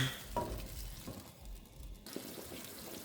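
Filipino meatball mixture with banana ketchup, sugar and black pepper being mixed in a bowl, a soft, wet, squelching stir close by and fairly quiet, with no talking.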